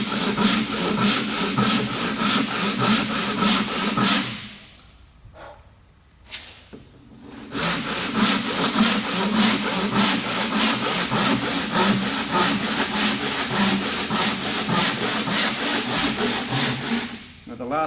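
A saw cuts through a piece of timber in steady, rhythmic strokes, fairly loud and close. A brief pause in the middle separates two runs of sawing.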